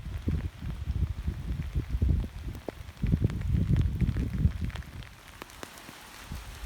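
Rain falls steadily outdoors during a walk home, a dense patter of drops on surfaces with occasional gusty rumble, moderately loud and continuous, with no voices.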